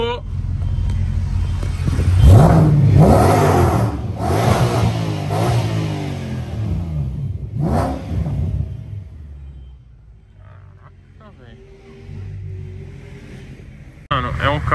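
An 800-horsepower car engine revs hard and accelerates, a loud, rising roar that dominates the first half, then eases to a lower rumble, with voices talking over it.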